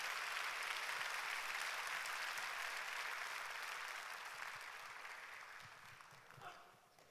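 Sustained applause from a church congregation welcoming the pastor at a Sunday worship service, a dense steady wash of clapping that gradually thins and fades toward the end.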